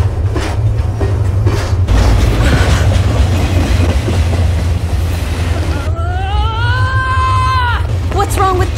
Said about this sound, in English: the Silver Star Express charter is now departing from the station